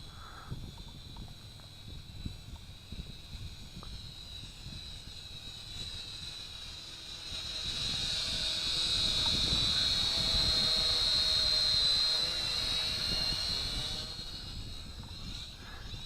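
A JJRC H8C quadcopter drone flies overhead with a thin, high rotor whine that swells louder in the middle and then fades, heard at a distance over faint background noise.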